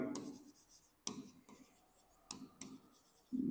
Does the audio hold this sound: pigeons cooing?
no